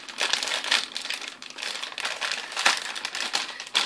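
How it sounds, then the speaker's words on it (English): Plastic bag crinkling steadily as it is unpacked from an eBay parcel holding a CollectA 2013 narwhal figure, close and continuous with irregular rustling bursts and no talk. "Now take out a plastic bag."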